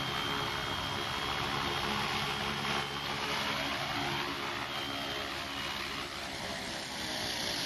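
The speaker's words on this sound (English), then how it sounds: "All right, we'll land this helicopter." A continuous high-pitched whir of a Walkera V370D05 six-channel radio-controlled helicopter hovers nearby, the motor pitch shifting slightly as it flies and settles to land.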